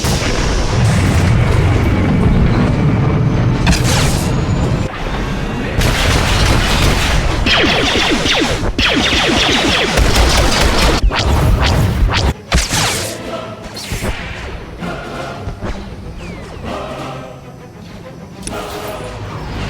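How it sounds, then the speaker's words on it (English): Artillery shells pound down in Star Wars The Old Republic, a loud, dense barrage of booming explosions and whooshes that keeps rolling for the full stretch, with voices shouting now and then amid the blasts. "Enemy artillery incoming!"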